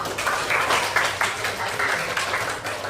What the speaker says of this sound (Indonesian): Oke, mari tepuk tangan untuk kita semua.